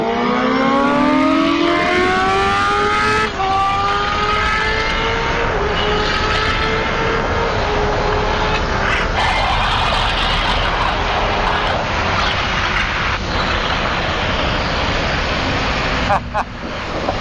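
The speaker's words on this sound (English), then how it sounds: "Mike, I don't like going that fast on this motorcycle" A 2021 Kawasaki ZX-10R 1000cc sport motorcycle accelerates hard at speed, its engine rising in pitch through the gears amid heavy, loud wind rush, continuous and close.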